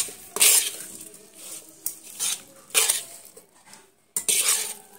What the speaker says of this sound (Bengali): আমি এবার শাকটাকে সুন্দর করে একটু নেড়ে চেড়ে কষিয়ে নিচ্ছি